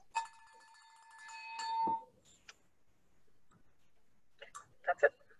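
A bell rung at a board installation ceremony gives one bright, ringing strike that hangs for about two seconds, followed by quiet clicks and faint distant voices.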